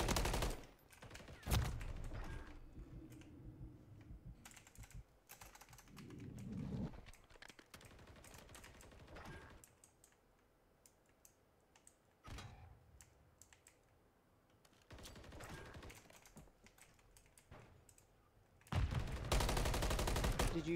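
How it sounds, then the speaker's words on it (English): Bursts of rapid gunfire from the Call of Duty video game, with clustered volleys of shots from two attackers, loud at the start and end with quieter stretches of scattered shots and game noise between. "There was two people shooting at me."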